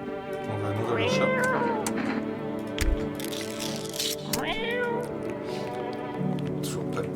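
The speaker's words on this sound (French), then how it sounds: "On va nourrir le chat." A cat meows repeatedly, several drawn-out, wavering calls close to the mic, with faint background noise between them.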